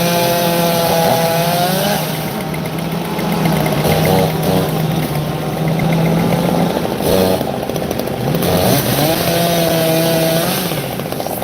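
A loud, close Husqvarna chainsaw at a firewood cutting event revs repeatedly, its engine note rising and falling as it bites into logs, running continuously throughout with no talk over it.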